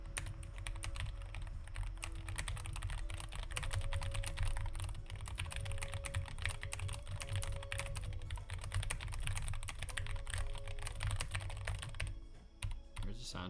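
Rapid, continuous clacking of keys on a computer keyboard, typed close to the microphone in a steady flurry that thins out at the very end, with no speech over it.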